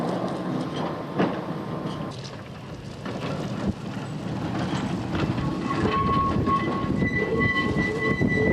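A Blackpool tram or works car rolls along street rails, a steady close rumble with metallic squeals and clicking over the joints, swelling slightly as it passes, with no talking.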